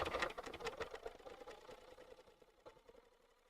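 A Bernina sewing machine runs steadily with a rapid mechanical stitching rhythm, loudest at the start and fading somewhat toward the end, with no talking over it.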